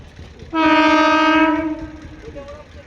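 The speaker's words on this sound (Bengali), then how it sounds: "আসছে ট্রেন আসছে আসছে" A train sounds its horn as it approaches on the Amtala to Raidighi route, one long loud tonal blast held for over a second before fading, heard nearby.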